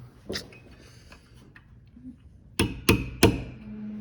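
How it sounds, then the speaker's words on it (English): A hammer strikes a piano string down onto a tuning pin, giving three sharp metallic taps in quick succession near the end after a fainter earlier knock, close and clear with no talking. "And then we're going to hammer down the string"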